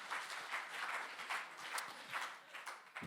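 A church congregation claps and cheers during a Sunday service, a soft, sustained round of applause heard from a distance with no talking over it.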